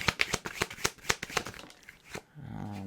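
Tarot cards are shuffled by hand in quick crisp riffles, a rapid run of snappy flicks up close that stops, followed by a faint low tone.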